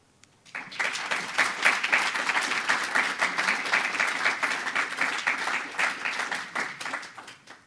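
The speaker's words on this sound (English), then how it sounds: "I'll stay here longest for the applause." After a brief quiet moment, an audience at a launch event in The Hague breaks into steady applause that holds evenly, then begins to taper off near the end.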